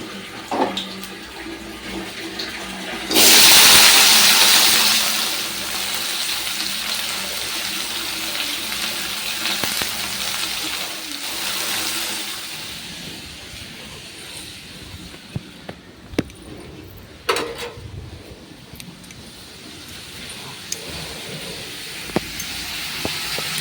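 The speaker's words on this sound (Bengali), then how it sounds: "চলো জল চলে এসেছে পাইপটা লাগাতে হবে" Kitchen tap running water, opening with a loud, close gush that settles into a steady hiss of flowing water, with a few scattered knocks and clicks over the continuous stream.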